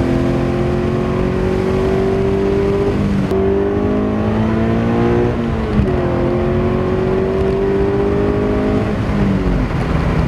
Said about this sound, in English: The car accelerates really, really nicely.